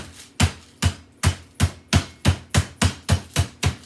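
A kitchen hammer pounding a chicken cutlet thin for milanesa, with about ten sharp, evenly spaced thuds that are close and loud and come alone without any talk.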